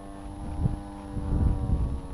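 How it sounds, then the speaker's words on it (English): A Hobbyzone Firebird Deltaray RC trainer plane drones steadily at reduced throttle, a thin motor whine heard over heavy wind buffeting on the microphone, with no talking. "I'm gonna reduce throttle so it'll descend a little."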